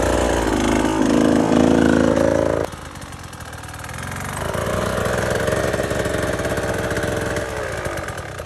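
A KTM 150 XCW dirt bike engine revs loudly up close, then drops to a lower idle before climbing back to a steady mid-range hum.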